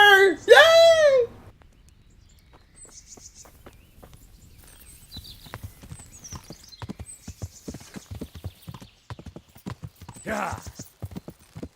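A horse's hooves clip-clop in the medieval video game Kingdom Come, opening with a loud whinny and then a steady run of close hoofbeats over crickets, while a player speaks briefly.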